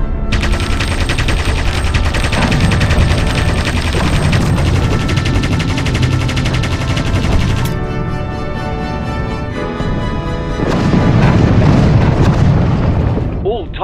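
Sustained video-game gunfire and explosions as anti-aircraft gun positions are attacked from the air: dense, loud bursts of shooting and booms over a steady engine drone throughout, with a brief shift in texture midway.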